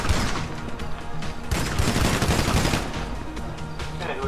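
Gunfire bursts in GTA 5 during a heist mission, a dense rattling volley that runs loud and steady for a few seconds, with a brief fuller crack in the middle and no talk.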